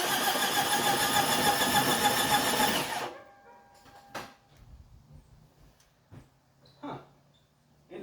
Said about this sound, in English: So let's turn over the engine for a couple seconds.